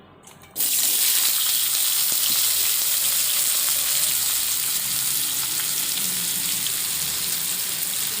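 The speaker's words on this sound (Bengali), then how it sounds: "আলুগুলো ভেজে নেব।" Potatoes sizzle loudly in hot oil in a village kitchen, the fish just fried in the same pan; after a short quiet start the frying jumps to a steady, close, dense crackle with faint stirring and no talk.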